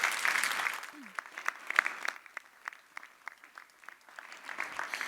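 A conference audience applauds a speaker with a full, steady round of clapping, moderately loud, while a faint voice sounds briefly over it.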